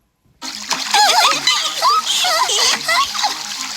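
Cartoon piglets and children splashing in a swimming pool, a continuous close bright splashing and sloshing of water with children's voices talking over it.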